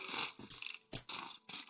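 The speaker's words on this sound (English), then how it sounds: "You stubborn dog." A tamed Minecraft dog makes four or five short, breathy, close bursts of panting or growling, separated by brief silent gaps.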